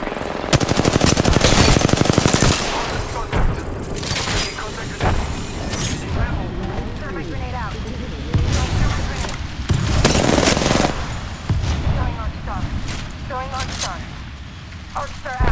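Rapid automatic gunfire bursts out in Apex Legends, loud and dense at first, then breaks into scattered volleys and single shots amid in-game callout voices and effects.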